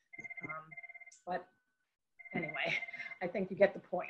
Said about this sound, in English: I do apologize for the phone. I have no idea how to silence it.